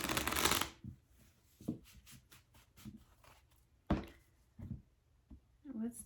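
Tarot cards are shuffled in a quick riffle at the start, followed by scattered soft taps and card handling, with a brief murmur of voice near the end.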